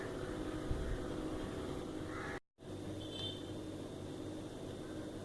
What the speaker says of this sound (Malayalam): ഇതെല്ലാം കൂടി ഇട്ട് ഒന്നും കൂടി അടിച്ചെടുക്കുക. ഒറ്റൊരു കറക്ക് മാത്രമേ കറക്കാൻ പാടുള്ളൂ.